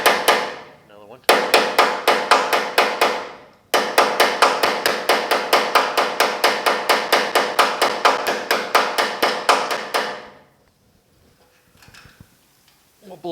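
A hammer taps rapidly and steadily on the sheet-metal cab panel of a 1950 Chevy truck, dozens of sharp ringing strikes in two long runs separated by a brief pause, close and loud.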